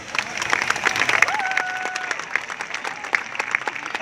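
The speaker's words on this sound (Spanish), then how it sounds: "Demos un fuerte aplauso." An audience applauds after a water, light and sound fountain show at a park, moderate clapping with some crowd noise and a brief whistle-like tone rising over it.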